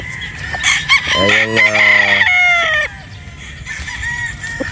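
A Boston gamecock rooster crows loudly and close, one long drawn-out call, followed by quieter clucking and a brief spoken word.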